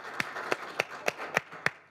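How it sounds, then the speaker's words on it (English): Six sharp, separate claps spaced evenly a moment apart, close and fairly quiet, with no voices. "Let's give him a round of applause."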